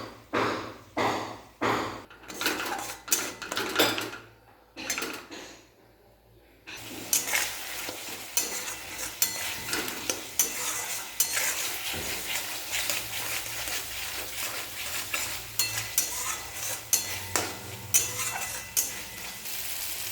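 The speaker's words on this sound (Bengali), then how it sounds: "এদিকে মশলাটাও হয়ে গিয়েছে, এর মধ্যে দিয়ে দেবো সেই জিরে গুঁড়োটা" A spoon clatters against a pan as a frying spice masala of softened tomatoes and ground cumin is stirred, with a run of sharp scraping strikes, a brief quiet gap, then steady sizzling with ongoing stirring.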